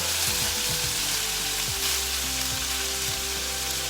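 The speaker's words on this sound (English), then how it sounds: "So now you can see the oil is separating and all the liquid is gone and the meat is shrinking" Beef fries in oil in a wok with a loud, continuous sizzle and occasional stirring scrapes, the liquid cooked off and the meat shrinking, with no voices.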